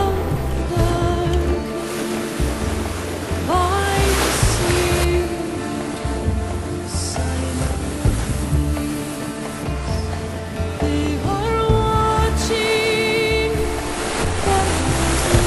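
Ocean waves off the coast of Morocco, a steady wash of surf and rushing water, loud and continuous, with a faint tonal drone running beneath.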